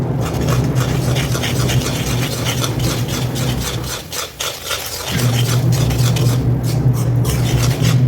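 A thick sohan halwa mixture stirred steadily in a pan, a continuous scraping, rubbing drone with a brief lull partway through before the stirring resumes at full strength, close and loud.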